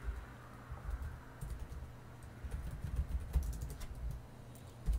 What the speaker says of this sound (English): Then I will type something like this.